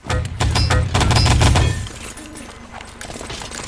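Rapid MP40 submachine gun bursts in Wolfenstein: Enemy Territory during a 6v6 competitive match on Electra, loud and close for over a second, then fading into quieter game ambience.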